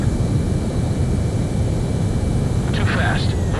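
A fighter jet lands in the Ace Combat 7 video game with a continuous, loud, broadband engine and wind roar that holds steady throughout, while a voice speaks over it.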